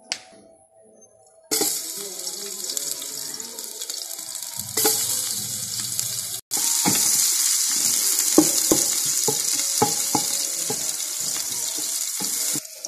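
Oil fries in a pan while bhuna khichuri is cooked, a steady close sizzle that starts after a quiet moment, briefly cuts out, then returns louder with scattered pops and stirring clatter.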